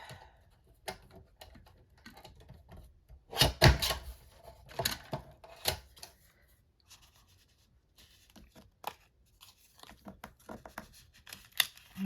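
Scissors cutting paper ephemera for a layered papercraft page, scattered crisp snips and paper handling close by, louder bursts early then quieter rustling.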